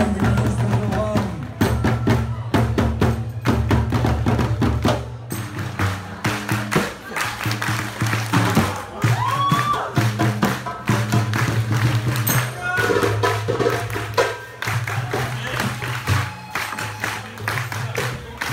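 Festival audience clapping at a doira drumming event, sharp hand claps and thuds with crowd cheering, mixed with music and voices over a long stretch.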